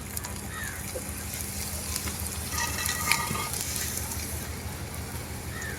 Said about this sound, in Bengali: এখন কিন্তু তেল গরম হয়ে গেছে। এখন কিন্তু আমি পরোটাটা দিয়ে দিব।